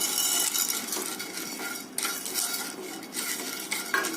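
Metal spoon scraping and stirring cardamom pods and roasted gram dry-roasting in a pan, a steady close scratching and clinking of utensil against cookware with brief pauses, no voices.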